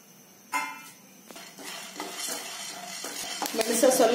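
Chana dal and black pepper roast dry in a pan, a spoon scraping and stirring with gritty rattles and a rising sizzle, close and clear with no talking.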